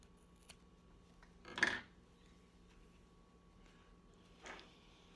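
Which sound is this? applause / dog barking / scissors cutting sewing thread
scissors cutting sewing thread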